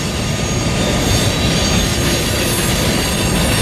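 A northbound train passes close by with a loud, continuous rumble and wheel noise, steady from start to finish, near a river towboat crossing.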